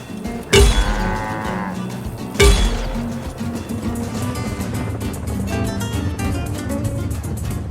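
A cow in the video game Just Cause 4 lets out two loud, drawn-out moos a couple of seconds apart, close by, over a steady background of game sounds.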